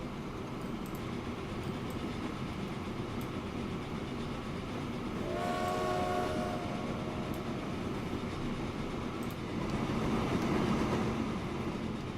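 A train in the Transport Fever game rolls steadily along its rails with a continuous low rumble, a brief horn note sounding midway, with no talk.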